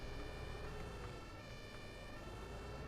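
An ambulance siren wails in the OMSI 2 bus simulator game, a steady, fairly faint tone held throughout with no one talking.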